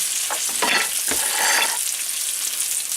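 Steak frying in a very hot pan gives off a loud, continuous sizzle with crackling bursts near the start, and no one speaks.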